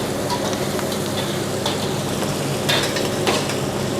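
Whole red and bird's eye chilies frying with garlic and shallots in oil, a constant close sizzle broken by a few sharp pops and crackles.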